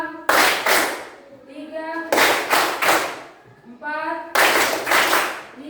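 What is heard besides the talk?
group clapping in rhythm to a count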